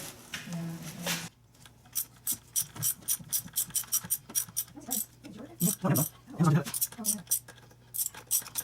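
Ratcheting clicks from a socket wrench loosening and backing out spark plugs on a Lincoln engine during a valve cover gasket job, close and in short irregular bursts, with a few words spoken between them.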